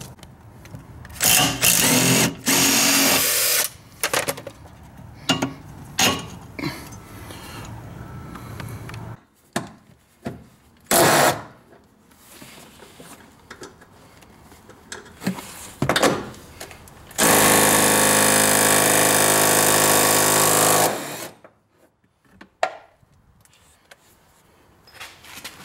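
Power tool, likely an impact wrench, loosening bolts while removing a coilover from a classic Honda, sounding in several short loud bursts and one longer sustained run, with tool clatter between them.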